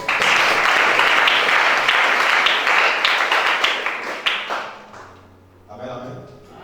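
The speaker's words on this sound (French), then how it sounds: "Acclame pour Jésus" A church congregation applauds for Jesus during a French-language worship service, loud continuous clapping for around five seconds that fades out, followed by a brief held musical tone and faint voices.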